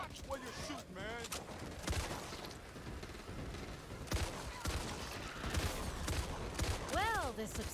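Rapid gunfire rattles through a hard video game level in bursts and scattered shots, mixed with booms and mechanical clanks, while character voices and shouts break in over the firing.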